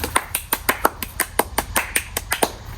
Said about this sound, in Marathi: टाळी वाजव बरं. टाळी वाजव आपण.